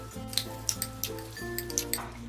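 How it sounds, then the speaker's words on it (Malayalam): Cut chicken pieces stirred into wet batter for chilli chicken, soft squelching and light clinks against the bowl under a steady tonal background hum. "ഇനി ഇതിലേക്ക് ഈ കട്ട് ചെയ്ത് വാഷ് ചെയ്ത് വെച്ചിരിക്കുന്ന ചിക്കൻ പീസസ് ഇട്ടിട്ട് മിക്സ് ചെയ്ത് കൊടുക്കാം."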